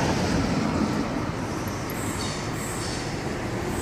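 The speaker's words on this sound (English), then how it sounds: "And a Tangara departing." A Sydney Tangara electric suburban train departs a station, giving a steady, loud, broadband rumble and rolling noise with faint high squeals, continuous throughout with no talking.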